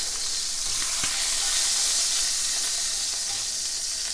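Pork pieces browning in a hot pan, giving a steady, close, even sizzle with a faint tick of stirring, no talk.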